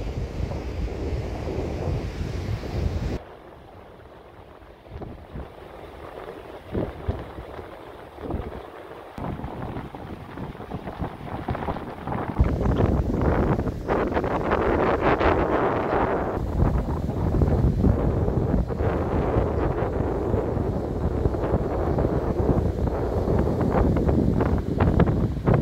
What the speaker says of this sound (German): Ganz schön windig hier am Strand.